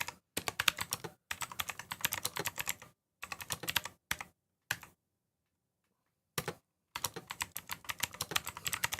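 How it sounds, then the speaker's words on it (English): Rapid typing on a computer keyboard while entering a drink order, in several bursts of dense key clicks separated by short pauses and one longer silence, close and clear with no talking. "we're going to type in Maximo's drink selections"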